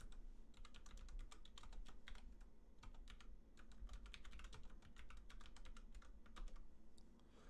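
Steady typing on a computer keyboard, a rapid, continuous patter of key clicks that stays close but quiet throughout.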